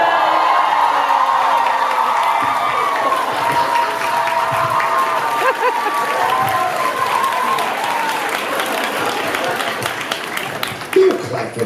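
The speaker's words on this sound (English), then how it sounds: "Don't clap for that." A convention panel audience breaks into sustained applause, with cheering and whoops riding on loud, continuous clapping while voices carry on talking over the noise.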